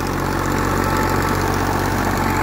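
A steady, heavy tractor engine drones continuously at a constant pitch on a farm, close and fairly loud, with a low rumble and no voices.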